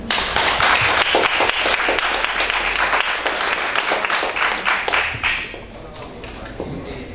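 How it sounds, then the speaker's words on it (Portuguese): An audience welcomes a speaker with strong, sustained applause, loud clapping that gradually thins out after about five seconds, leaving a few scattered claps and faint voices. "Eu gostaria que vocês recebessem com uma forte salva de palmas."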